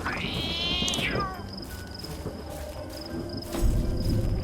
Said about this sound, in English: Maybe there's just a cat somewhere around here.